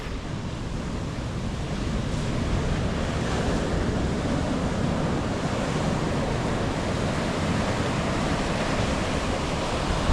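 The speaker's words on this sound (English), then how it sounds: "And on the other side of the cave, we've got another beach." Steady waves and surf wash onto a Los Angeles beach beside a sea cave, a continuous broad roar with wind buffeting the microphone throughout and no voices.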